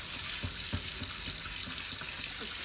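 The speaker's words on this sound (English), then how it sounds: "now I'm using soap to kind of get out the stuff that's really on there" Soapy washing of a cast iron pan under a running tap, with a steady rush of water and repeated scrubbing strokes in a regular rhythm, close and alone.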